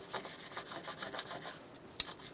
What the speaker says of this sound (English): So use a wire brush or something like it. We want to get in this groove especially.